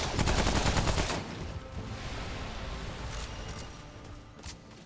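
Shotgun blasts in a video game, a loud rapid burst of booming shots at the start followed by a fading reverberant tail and a couple of faint later shots.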